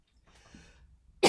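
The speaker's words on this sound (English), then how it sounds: "I still got this cough from this cold." A person with a lingering cold gives a short sharp cough after a moment of soft breathing, close and fairly loud, alone without speech.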